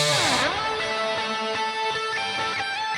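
Synth-like lead guitar tone from the Archetype Corey Wong plugin's Sorta Synthy Lead preset in a mix breakdown, playing a sustained melodic line with a bright swooping bend at the start, steady and upfront with no talking.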